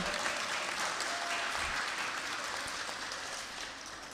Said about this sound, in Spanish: Por favor, los aplausos para él